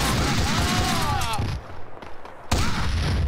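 Loud bursts of gunfire in the video game Max Payne 2, heavy booming shots filling the first half, a brief lull, then another blast, with a player talking over the action.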